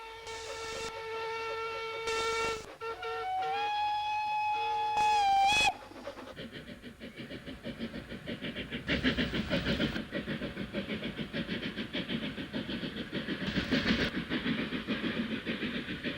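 A vintage steam train on a heritage railway near Bodiam gives several loud, sustained whistle blasts, then runs on with a steady, rhythmic rolling and chuffing that swells as it passes.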